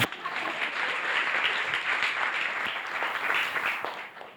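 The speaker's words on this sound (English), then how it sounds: "A round of applause for her, please." Luncheon audience breaking into applause at an indoor business event, steady dense clapping from many hands that holds throughout without any speech over it.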